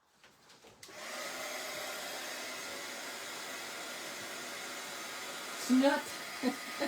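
A hair dryer drying a gel plate art journal page runs as a steady, moderately loud airflow hum after switching on, with a few brief bumps and handling noises near the end.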